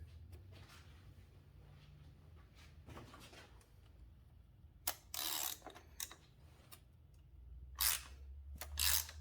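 Oil filter housing being unscrewed on a 2012 VW Passat CC 2.0 Turbo TSI, with faint close clicks and ratchet-like bursts spaced over a quiet low background hum.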